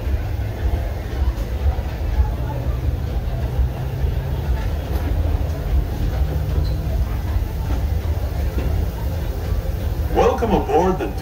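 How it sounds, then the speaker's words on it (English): The Disneyland Railroad train idles and starts to depart from the station, a continuous low rumble and chug with faint clanks, and a voice briefly speaks near the end. "This train is now ready to depart."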